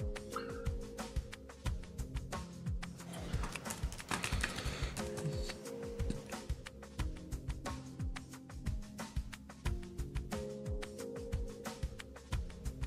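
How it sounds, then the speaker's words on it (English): Typing on a physical AZERTY computer keyboard, steady rapid key clicks close up throughout, with a brief denser stretch midway, fairly quiet over a low background hum and no voice. "I can just use my keyboard instead of the on-screen one"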